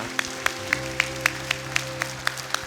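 Evenly spaced claps in a church service, beating in a steady rhythm about four times per second over a sustained low musical hum, moderately loud and without talk.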